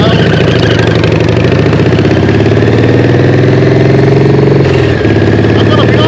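Harley-Davidson Evo engine in a hardtail chopper motorcycle, a loud, close, continuous low rumble that holds steady throughout with a slight shift near the end.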